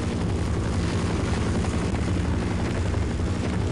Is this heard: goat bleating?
no